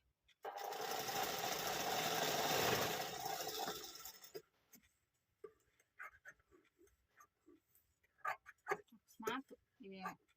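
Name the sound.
sewing machine stitching a blouse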